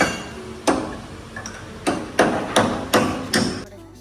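Hammer striking a new bearing into a Leyland truck, about eight sharp metallic blows at an uneven pace, close and loud with short ringing tails.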